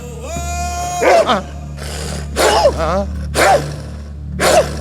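A voices four short, gruff dog-like barks in a row, spaced about a second apart, close and loud over a steady low hum, a person imitating a dog rather than a real animal.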